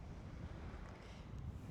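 Steady wind buffets the microphone on a cloudy seacoast, with a continuous low rumble of surf beneath it and no voices.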